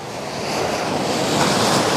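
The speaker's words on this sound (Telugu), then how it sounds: "అలలు అయితే చాలా పెద్ద పెద్ద వస్తున్నాయి" Big ocean waves breaking on a beach at Kalpeni Island, Lakshadweep, a continuous loud surging roar with wind buffeting the microphone, swelling slightly, no voices.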